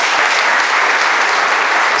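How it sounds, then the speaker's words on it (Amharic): An audience claps steadily and densely for a couple married fourteen years at an Easter holiday special program, the applause continuous and fairly loud throughout with no voices over it. "14 ዓመት በጋብቻ አጨብጭቡላቸው"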